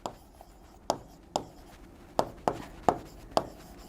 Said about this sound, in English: if I want to write magnifera, I am writing magnifera